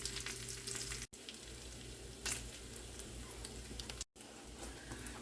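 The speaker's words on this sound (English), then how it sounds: "I want to cook this bacon until I get it to the point where it's not got the fat on it and all of that has been cooked off" Bacon frying in a pan, a steady dense sizzle and crackle running throughout at moderate level, with two brief dropouts and a short burst of sharper spitting midway; no talking.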